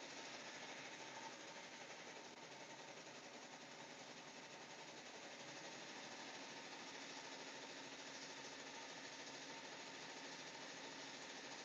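Brother embroidery machines running in a home embroidery workshop, a steady, fast mechanical whirr and needle rattle that holds constant and fairly faint, with no talking.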